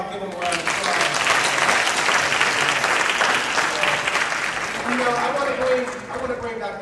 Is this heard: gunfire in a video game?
no